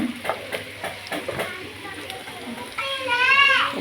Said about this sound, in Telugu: ఉప్పు, కారం, పసుపు, సాల్ట్ వేసి ఈ విధంగా మిక్స్ చేసుకోవాలి ఫ్రెండ్స్